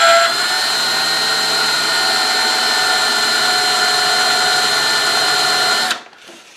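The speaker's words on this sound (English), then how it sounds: "I've reverted to my drill, and I'm countersinking a center point here and a center point here" An electric power drill countersinks a center point in metal while making small rivets, a steady loud whine running without a break for about six seconds before it cuts off abruptly.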